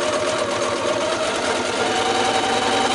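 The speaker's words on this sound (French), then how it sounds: "Et je couds jusqu'à la fin." A domestic sewing machine stitches fabric in a continuous fast whirring drone with a steady mechanical buzz, loud and close throughout, no talking.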